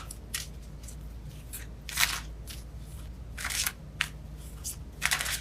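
Tarot cards being shuffled by hand, heard as a series of short, crisp papery riffles and slaps in irregular bursts, close up over a low steady hum with no talking.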